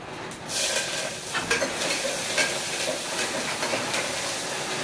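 Onions and curry leaves sizzling in hot oil for a quick lentil rice dish, a steady bright hiss and crackle heard close up and continuing throughout, with no voices.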